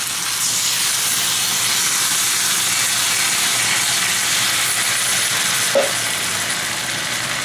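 Tomato sauce hitting a pan of sautéing sage chicken legs and okra, raising a steady, loud broadband sizzle and hiss that holds evenly throughout, with one brief clink near the end.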